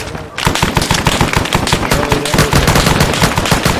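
Rapid bursts of machine gun fire in the combat video game Arma 3, loud and close, a steady rattling string of shots after a brief pause at the start.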